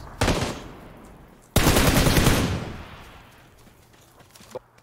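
SLR rifle fire in a video game: a short loud burst, then a longer rapid volley of close shots that rings out and fades, with a faint click near the end.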